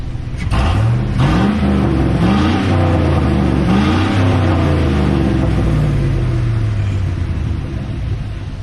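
A 2005 Chevy Silverado pickup's engine rumbles loudly and close, revving up in several rising surges before easing back to a steady idle, with no talking over it.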